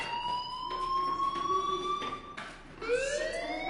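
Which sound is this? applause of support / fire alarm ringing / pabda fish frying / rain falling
fire alarm ringing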